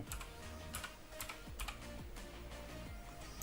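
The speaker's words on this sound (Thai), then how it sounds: "พิมพ์ชื่อลงไป" Rapid, even clicking of keys as a profile name is typed on a computer keyboard, close and quiet, a brief continuous run of keystrokes with no speech.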